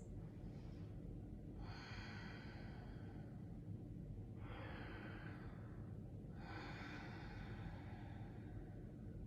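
Slow, deep breaths taken while holding a yoga pose: three long, airy inhale-exhale cycles, soft and close over a steady low background hum.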